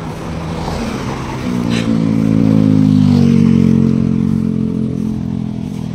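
Motorcycle on a road, its engine rising to a steady loud drone close by and then easing slightly, with a brief clatter early on and no talk over it.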